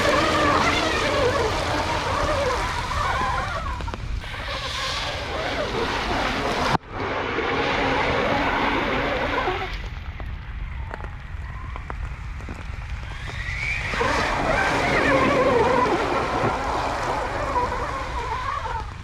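A Traxxas TRX4 Bronco RC truck with a brushless VXL upgrade churns through water. It makes a loud, steady rush of splashing and sloshing that dips briefly before surging again.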